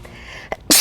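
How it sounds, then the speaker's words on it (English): A single loud, close human sneeze at the very end, preceded by a short sharp intake of breath, in a morning TV news studio. "She's had some sneezes this whole week"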